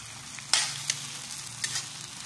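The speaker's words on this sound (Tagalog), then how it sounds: "Haluin lang po natin." Food sizzles steadily in a frying pan while a few short scraping strokes of stirring cut through, with no voices.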